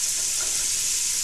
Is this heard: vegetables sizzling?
yes